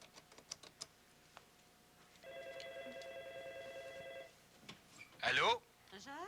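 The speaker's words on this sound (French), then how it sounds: "je vais composer le numéro pour vous" A telephone number being dialed by hand: a few sharp key clicks, then a steady electronic ringing tone for about two seconds, followed by a short, louder warbling burst, all fairly close.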